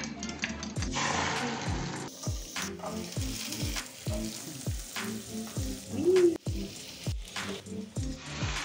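Mie goreng fried in a pan, giving a continuous close sizzle broken by regular scraping strokes of a spatula stirring the noodles, loud and unbroken throughout with no voices.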